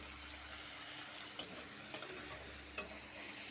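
Ground spices with salt, coriander, cumin, turmeric and chili powder stir-fried in a pan for an okra and prawn curry, a steady low sizzle broken by a few sharp scraping clacks of the spatula.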